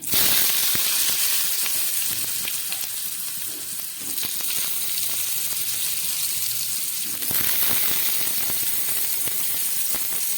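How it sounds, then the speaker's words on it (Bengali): Potatoes and five-spice seeds frying in hot oil, a loud continuous sizzle with crackles and occasional stirring clinks throughout. "তেলটা গরম হয়ে গেছে, এর মধ্যে আমি দিয়ে দিচ্ছি 5 ফোড়ন। তারপরে দিয়ে দিচ্ছি আমি আলু।"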